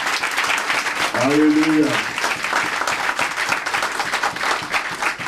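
An audience at a church hall inauguration in London-Hackney applauds the evangelist Pascal Oromé, a sustained roar of clapping and cheering throughout while a voice calls out briefly over it.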